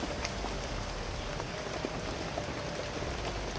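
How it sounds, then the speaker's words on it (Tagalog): Heavy rain pours down in a dense, even hiss, with scattered sharper drops landing on surfaces throughout. It plays alone and continuous. "lakas pa talaga yung ulan."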